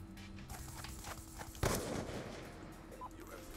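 A single sharp gunshot from a Black Ops 2 Search and Destroy match cracks out near the middle, loud and sudden, over a low busy game background with faint footstep-like taps before it.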